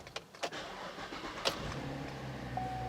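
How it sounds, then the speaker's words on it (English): A misfiring 2010 Chevrolet Camaro engine cranks and starts up, followed by a steady low idle, with a few faint clicks just before. "start the engine"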